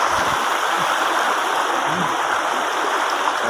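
Clear stream in Negros Occidental rushing over a bed of rocks, a steady broadband wash of flowing water holding constant level throughout, close and continuous with no talk.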